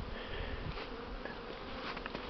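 Bees fly around during a cleansing flight in Pripyat Polesye, many settling on grass, making a continuous close buzzing drone with brief louder passes as individuals zip by, no talking.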